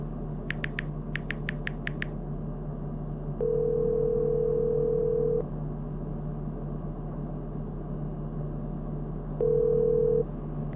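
An unanswered phone call plays a steady tone in two long beeps over a low constant hum, with a quick burst of short dial tones near the start.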